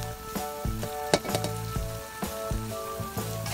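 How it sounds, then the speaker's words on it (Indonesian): Chili and lemongrass fry in hot oil, giving a steady close sizzle with occasional stirring clinks and scrapes, and no talking. "selanjutnya ini kita goreng si cabenya sama serainya juga goreng ya"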